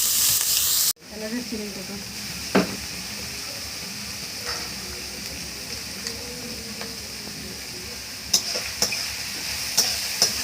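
Chopped carrots and capsicum fry in a pan with a soft, continuous sizzle. There are a few sharp clinks of a utensil, and a brief voice speaks over the quiet cooking.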